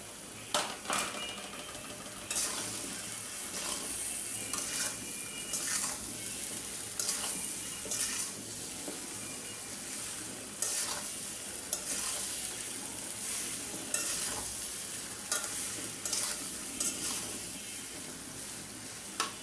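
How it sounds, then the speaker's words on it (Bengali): Boiled, lightly sun-dried olives are stirred in hot oil for a sweet-and-spicy olive pickle: a steady frying sizzle with repeated scraping strokes of a spoon against the pan, close and even throughout, no voices. "জোল পইটা আমি বেশ কিছুক্ষণ তেলের মধ্যে নাড়া দিয়ে দিলাম"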